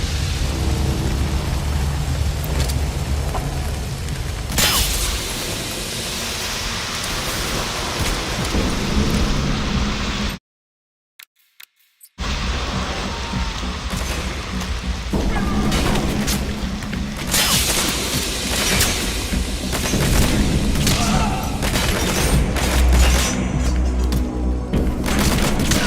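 Gunfire and explosions in Metal Gear Solid V: The Phantom Pain form a loud, continuous crackling barrage with deep booms, broken by a brief dead-silent gap before the din resumes.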